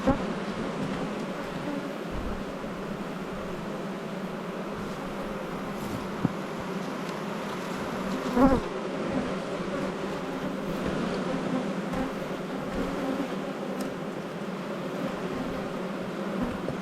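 Honey bee colony humming in an Australian apiary, a steady close buzz of many bees with a few brief knocks and handling sounds over it.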